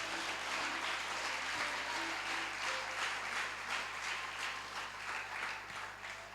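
Church congregation at a Sunday worship service clapping and applauding together, a dense sustained wash of many hands that holds steady, then thins slightly toward the end, with no speech over it.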